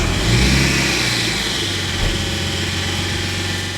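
A Nissan Skyline R34 fitted with a 350Z manual transmission starts and revs in a workshop, a loud close engine roar settling into a steady rumbling idle with a slight rev rise near the two-second mark.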